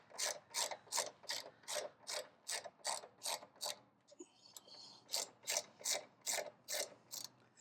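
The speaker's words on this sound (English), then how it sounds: "we're going to take this bolt right here loose." A ratchet loosens a bolt on a Ford Bronco during a license plate relocation, clicking in a steady, even rhythm of close, loud strokes with a short pause partway through.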